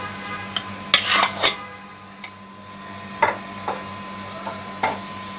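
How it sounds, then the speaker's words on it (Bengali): Papaya fry being poured from a wok onto a plate, a quick cluster of metallic scrapes and clinks up close, followed by a few scattered lighter taps against a quiet hum. "আমাদের প্লেটে ঢেলে নিচ্ছি"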